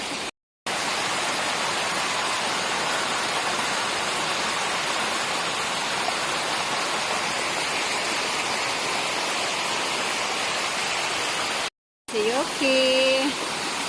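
Engkanto Falls in Camarines Sur, Philippines, roars as a loud, steady broadband rush of falling water, continuous and close, with a brief cut near the end before a voice calls out.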